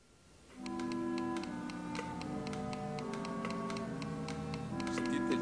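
Several metronomes tick at once, their beats drifting apart into an uneven clatter, layered over sustained orchestral chords from Ravel's opera L'heure espagnole that swell slightly toward the end.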